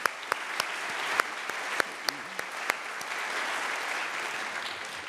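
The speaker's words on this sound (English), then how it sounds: "Let's give ourselves a round of applause" An audience applauds at an evening event of music and discussion, a steady wash of clapping with a few sharper individual claps standing out, moderately distant and without speech.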